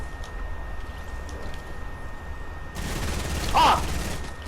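A burst of gunfire in the Fortnite video game rises late, a short rattling volley that stands above quiet background game noise with a faint tone.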